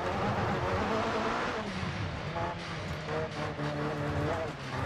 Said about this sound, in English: That sounds so good on the dirt, though.